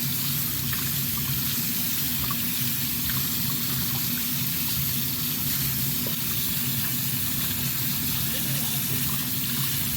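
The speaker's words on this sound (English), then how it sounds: "so we're going to rinse it up" Running water rinsing something on a farm, a steady, even hiss and gush of flowing water throughout, with a low background hum and voices talking over it.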